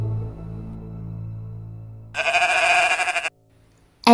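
A low droning tone gives way to a single loud, wavering sheep bleat from a cartoon animation, clear and close, ending abruptly.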